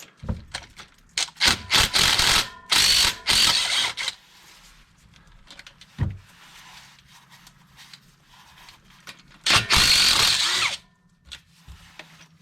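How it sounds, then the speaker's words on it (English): A power tool zips bolts out of a Ford Bronco differential cover on a concrete floor, in several short loud bursts with quiet gaps, a faint clank, and a low hum between. "Just taking out a bunch of bolts."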